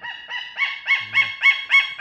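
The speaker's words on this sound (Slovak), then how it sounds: "A tam sú ďalšie orly, ktoré robia divné zvuky." Eagles calling at a zoo in Košice: a steady series of about eight repeated harmonic calls, evenly spaced and fairly close, with no talk over them.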